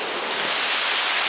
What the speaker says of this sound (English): the water is just kind of flowing down this entire rock, this entire mountain area